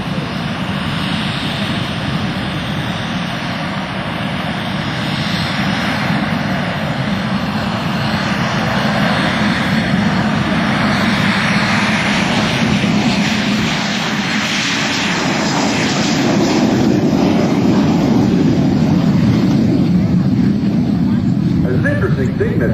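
A jet warbird roars past at an airshow, its loud continuous engine noise swelling and holding for a long stretch while an announcer talks over it.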